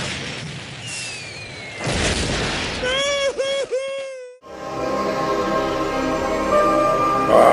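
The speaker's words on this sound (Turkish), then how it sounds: "Havai fişekleri hep sevmişimdir." Cartoon fireworks burst in Regular Show: a loud boom and crackle, then a tonal whistling rise and a sudden drop to silence, followed by a sustained roaring rumble.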